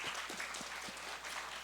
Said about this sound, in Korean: 말 나온 김에 우리 고3 랩런트들이 힘내라고 격려하면서 축복하면서 박수 한번 보냅시다.